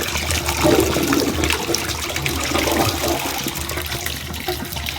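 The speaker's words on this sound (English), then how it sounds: "You gotta purge a lot of water through the system." Water rushes steadily through a newly installed PEX plumbing line with a three-stage filter system, a constant loud hiss and gush that holds without a break.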